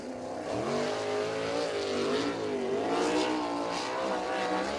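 USAC National sprint car lapping the Circle City track, a Chevrolet-powered Hawk chassis whose engine drones at a distance, its pitch rising and falling through the corners at a steady, moderate level.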